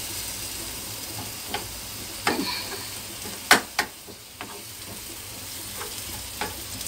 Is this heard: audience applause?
no